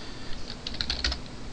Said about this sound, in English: don't mind this, I just hit the keyboard